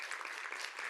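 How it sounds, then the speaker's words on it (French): Light applause from participants closing out a French health services webinar, a brief steady patter of clapping with no speech. "Je pense qu'on peut s'applaudir nous-mêmes pour le plaisir aujourd'hui."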